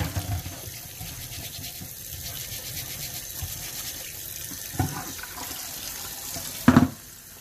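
Water runs steadily from a kitchen tap onto a still-hot cast iron pan being scrubbed, a continuous hiss with a few louder splashes and a brief sharp gush near the end, no voices.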